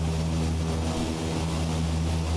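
An IniBuilds F406 Caravan II twin-turboprop passes in a simulated flyby, giving a loud, steady propeller drone with a deep hum and broad engine noise that holds the whole time.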